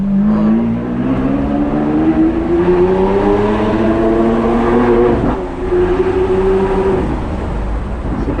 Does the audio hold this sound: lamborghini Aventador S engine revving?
yes